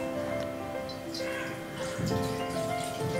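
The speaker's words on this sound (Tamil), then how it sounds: "தண்ணி ஊற்றிக்கோங்க." Water poured into a cooking pot while making fenugreek kozhukattai in a home kitchen, a steady splashing pour close by that swells near the end, with faint background clatter.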